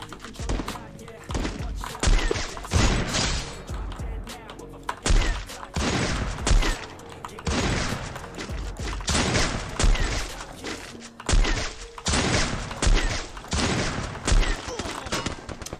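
Sustained automatic gunfire in a video game shooter, loud and close, with dense rapid bursts running almost nonstop through the whole stretch, broken by only short pauses, and no voices over it.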